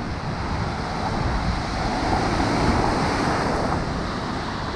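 Stormy sea surf crashes continuously onto a pebbly beach at Ordzhonikidze in Crimea, a loud, steady roar of breaking waves mixed with gusting wind buffeting the microphone, with no voices.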